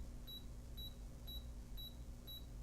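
Self-timer countdown on a Canon PowerShot G1 digital camera: five short, evenly spaced high electronic beeps about half a second apart over a low steady hum.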